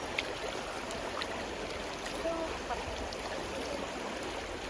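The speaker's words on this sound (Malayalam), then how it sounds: "നല്ല മലയിൽ നിന്ന് ഒഴുകി വരുന്ന നല്ല തണുത്ത വെള്ളത്തിലാണ് നമ്മളിപ്പോൾ കളിക്കുന്നത്" Constant rushing of a cold mountain stream in forest near Peruvanamuzhi dam, Kozhikode, Kerala, a steady, even wash of water noise with no pauses, moderately distant.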